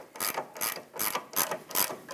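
Ratchet with a 17mm socket tightening a sway bar link nut on a 2008-2012 Honda Accord front suspension, giving about six quick bursts of clicking strokes in a steady rhythm, close and alone.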